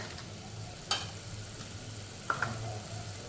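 A spiced moth bean mixture with chilli powder, coriander and garam masala fries in a pan, giving a quiet, even sizzle, with a couple of short sharp clinks of a spoon against the pan.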